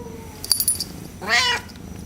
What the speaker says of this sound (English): You are a fat cat.